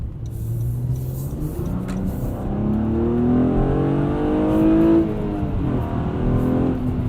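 A Honda Accord coupe's engine accelerates hard, its revs climbing steadily in a loud, continuous drone with rising pitch, heard close and without talk.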